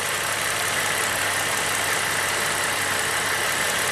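A GM V6 engine idling smoothly with a steady, even hum and no talk, its fuel trims good while a sensor is unplugged during timing chain diagnosis.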